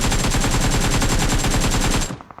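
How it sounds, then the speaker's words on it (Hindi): Rapid automatic gunfire from an Uzi-type weapon in the battle royale mobile game BGMI, a dense loud burst of shots fired in quick succession for about two seconds before cutting off abruptly. "फिर मेरे को अचानक से यहाँ से फायरिंग आती है"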